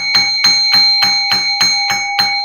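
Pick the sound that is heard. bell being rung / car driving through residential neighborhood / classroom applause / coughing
bell being rung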